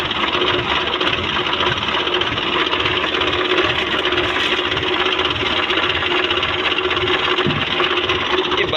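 A tractor engine runs at slow speed with its hydraulic pump assembly engaged, giving a steady rhythmic chugging rumble, close and even, with some talk mixed in.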